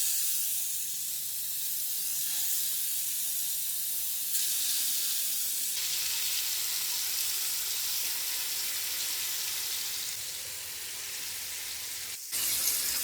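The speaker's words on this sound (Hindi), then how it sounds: "अब हमने जो चिकन मैरिनेट किया था अब हम इसके ऊपर डाल देंगे" Marinated chicken pieces sizzle and hiss in three to four spoons of hot oil on a tawa, a steady close frying crackle that swells as the pieces go in, with no talking.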